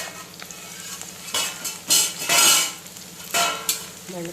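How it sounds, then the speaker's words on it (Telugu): Okra fry is stirred in a pan with a utensil, giving uneven scraping and clattering bursts over a low steady sizzle, close and moderately loud with no talking. "బెండకాయ ఫ్రై మొత్తం ఇట్లా మళ్ళీ ఒకసారి తీసేసేసి మళ్ళీ ఒకసారి ఇట్లా మంచిగా కలిసేటట్టు తిప్పుకోండి"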